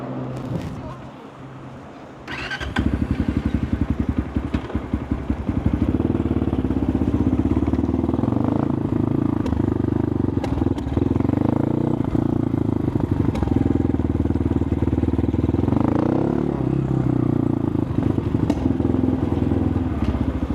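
A new 2024 Geon GNS 300 Motard motorcycle engine starts and idles steadily after a brief quiet moment, a close, rough, pulsing single-cylinder putter with some clatter, while people talk now and then.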